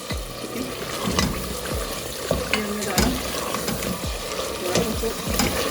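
Five almonds sizzle and crackle in hot oil in a pan while cooking chicken badami korma, with steady frying noise, occasional stirring scrapes and clinks, and a faint voice in the background.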